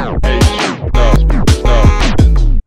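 Loud music with repeated tape-stop pitch drops made in Ableton, where the pitch sinks and slows to a halt like a turntable winding down, several times in a row.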